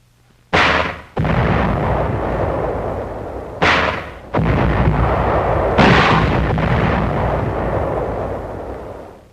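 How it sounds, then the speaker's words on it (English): A 75mm howitzer mounted on an amtrac shells enemy caves on a beach landing, three loud, heavy booming blasts each followed by long rolling rumble, close and powerful. "A 75mm howitzer mounted on an Amtrak shells enemy caves."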